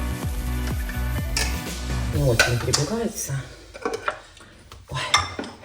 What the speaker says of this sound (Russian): давайте сначала петрушку немножко перебьем, помельче порежу